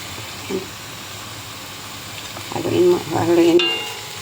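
Spaghetti Bolognese sauce sizzles quietly in a pan, with a few scraping stirs near the end swelling the sound briefly.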